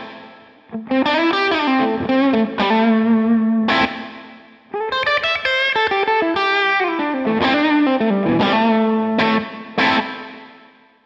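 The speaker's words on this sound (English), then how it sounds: "Big Sky off, Pod Go reverb." Distorted electric guitar through the Line 6 POD Go's built-in reverb plays chord and melody phrases for about eleven seconds, with short pauses and decaying reverb trails between them.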